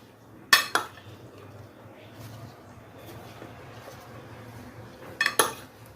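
Chopped fruit chaat with apple being mixed in a bowl, two short bursts of spoon clinks and scrapes against the dish separated by a quiet pause, close and without talk.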